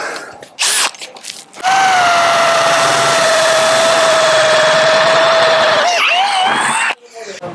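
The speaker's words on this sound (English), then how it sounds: "we are drilling through a galvanised piece of steel" A power drill bores a small pilot hole through galvanised steel roof capping on a Land Rover 110. The drill whines loudly and steadily for about five seconds, then winds down, with brief bursts before and after.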